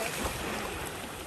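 Ocean surf washing onto a shelling beach near a lighthouse, a steady broadband wash of waves with wind noise, fairly loud and continuous with no talking.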